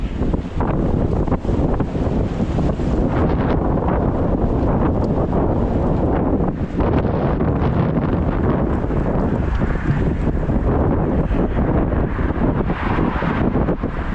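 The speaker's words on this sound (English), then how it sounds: "Wind's going to help me walk today." Strong wind roars and buffets the microphone nonstop during an outdoor walk past flooded lawns, a loud, dense, steady rush with no pauses and no talk.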